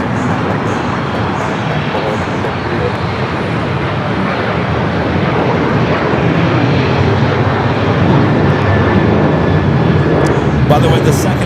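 Fixed-wing airliner on approach into LAX, Los Angeles, a steady broadband engine roar that holds loud throughout and swells slightly near the end, with commentary talk over it.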